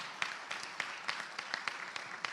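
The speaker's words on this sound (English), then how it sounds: "Big round of applause for them" Scattered, light clapping at a credit union annual meeting held at a country club: a few hands striking in a loose, steady rhythm, faint and fairly distant.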